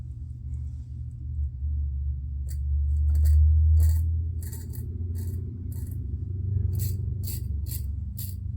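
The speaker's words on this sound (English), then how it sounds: "it feels more like it's scraping, even when I go a little bit on the cap, than it does that it's cutting" A tool scrapes across a bar of soap in short, repeated rasping strokes, near and fairly loud, over a steady low rumble with no talking.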